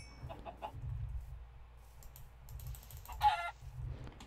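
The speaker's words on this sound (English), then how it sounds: "I need to get that chicken, though." A Minecraft chicken clucks softly in the game, a few short clucks rising over low rhythmic thumps and faint clicking, with quiet background sounds.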